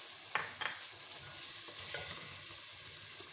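Masala and tomatoes frying in a pan, with a soft continuous sizzle and a few sharp clinks from a spoon early on, heard faintly.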